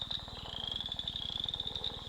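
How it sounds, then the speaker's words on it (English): An Ohio western chorus frog calls with a rapid, even train of raspy pulses like a thumbnail run along comb teeth, steady and fairly faint over a faint high insect-like hum. "is likened to the call of the western chorus frog."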